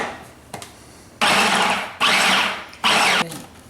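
A food processor pulses butter and flour for a peach crumble topping in three loud, even bursts of motor whir, each about a second long, separated by short pauses, with a faint click just before the first.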